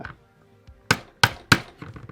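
An airsoft MP7 gas blowback rifle's trigger pin is knocked in with a flat: three sharp, close metallic taps about a third of a second apart, with quiet handling between and no talk.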